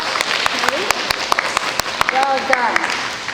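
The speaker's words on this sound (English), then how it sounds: "Can we give Dean a big hand?" Year 1 children at a school assembly clap for Dean in a scattered burst of separate, uneven hand claps, with adult and children's voices talking over the clapping.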